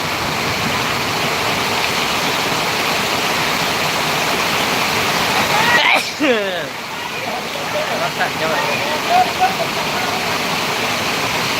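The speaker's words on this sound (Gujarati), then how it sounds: "થોડી વારમાં જ પાણી પાણી એટલો વરસાદ પડી ગયો જબરજસ્ત" Continuous hiss of heavy rain pouring in Surat, with a brief burst of voices and rustling partway through.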